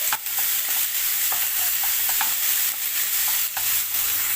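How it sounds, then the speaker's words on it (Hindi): Spring roll filling is stirred in a hot pan, with a continuous frying sizzle broken by repeated scraping and stirring strokes, close and fairly loud, with no voices. "तो हम अभी इसको ऐसे ही मिक्स कर लेंगे।"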